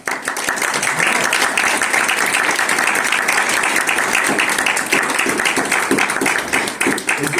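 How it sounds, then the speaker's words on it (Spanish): Loud, vigorous applause from an audience welcoming a guest speaker at a film and literature event, dense clapping sustained for several seconds at close range with no talk. "para quien pido un fuerte aplauso"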